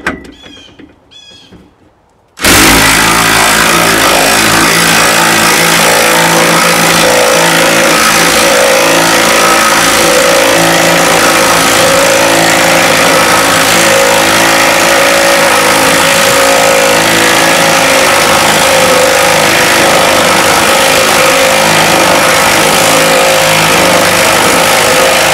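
After a brief quiet start, a shop-made impact driver turning a scissor jack under a trailer bursts into a loud, continuous rattling drone. The sound holds steady and close for over twenty seconds.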